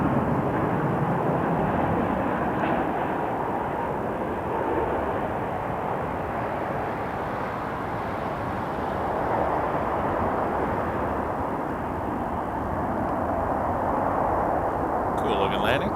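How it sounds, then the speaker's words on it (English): An Air Canada Boeing 787-9 Dreamliner from Seoul lands at Toronto Pearson Airport, a sustained broad jet roar holding steady for the whole stretch, heard from the ground with people talking over it. "Here's a Dreamliner from Seoul. 787-9, I believe, yes?"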